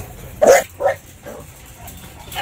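American Bully dogs bark nearby: two loud, sharp barks come first, then a few fainter yips and barks, with no talk over them.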